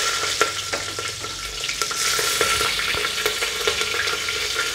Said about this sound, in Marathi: ते चांगले आता परतून घेऊ